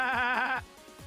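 A human voice imitating a goat, a loud, close, wavering bleat lasting over half a second, then fading into quiet room tone.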